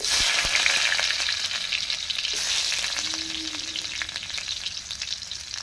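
Chilli, onion and whole garlic frying in hot oil, a steady close sizzle with crackling pops and occasional stirring clicks throughout, no talking.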